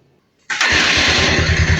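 A Honda Rouser 180 motorcycle fitted with a 30mm carburetor starts abruptly after a moment of near-silence, then settles into a loud, close, steady idle with a rapid even pulse.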